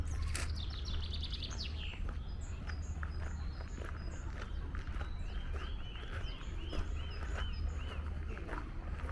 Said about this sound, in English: I think they're feeding the birds.